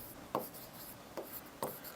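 Pen strokes on paper while wedding roles are listed, three short scratchy bursts spaced apart over quiet room tone.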